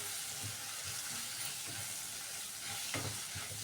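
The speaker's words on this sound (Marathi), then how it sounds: "शेंगदाण्याचा कूट टाकलेला पण असं छान भाजून घ्यायचं व्यवस्थित" Spices and crushed peanuts being roasted and stirred in a pan for a capsicum sabzi make a steady, close frying sizzle broken by soft repeated scraping strokes.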